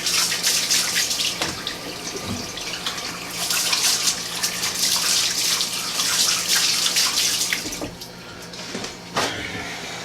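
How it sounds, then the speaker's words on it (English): Hands being washed under a running kitchen tap after handling raw chicken, a steady loud hiss of flowing water with splashing and brief rubbing sounds, close by and without talk. "Let me wash my hands real quick."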